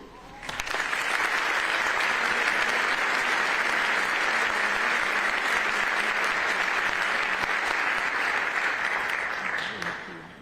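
An audience at a memorial ceremony applauds to welcome a speaker, a dense, sustained wash of clapping rising quickly, holding steady for about ten seconds, then tapering off.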